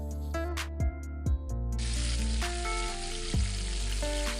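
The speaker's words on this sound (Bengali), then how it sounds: "কড়াইয়ের মধ্যে তেল গরম করে পেঁয়াজ কুচিগুলো দিয়ে দিতে হবে" Chopped onions hit hot oil in a wok and burst into a loud, steady sizzle that holds to the end, after a few thumps and soft background music.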